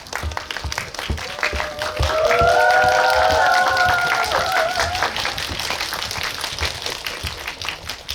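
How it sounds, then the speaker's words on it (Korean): A cinema audience at a film talk event for Whiplash claps warmly in a sustained, even wash of applause, with a brief musical tone rising through the middle. "다시 한번 뜨거운 박수 부탁드립니다."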